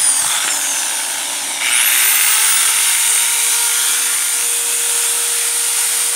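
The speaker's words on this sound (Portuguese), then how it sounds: "Vou ligar aqui agora essa. furadeira aqui de 400 watts." A 400-watt electric drill run from a homemade sine-wave inverter whirs steadily and loudly, stopping briefly then spinning back up with a rising whine that holds at a constant pitch.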